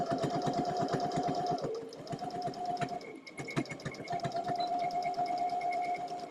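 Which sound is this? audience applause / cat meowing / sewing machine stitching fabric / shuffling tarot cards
sewing machine stitching fabric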